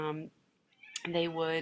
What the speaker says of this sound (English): yep, that was my cat screeching